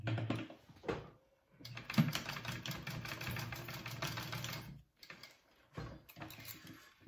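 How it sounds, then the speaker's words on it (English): A sewing machine stitches fabric at a quarter-inch seam while sewing a sling. It runs as a fast, steady mechanical chatter for a few seconds, stops briefly, then starts again in shorter runs, all quiet and close. "I am going to sew those on at a 1/4 inch seam allowance"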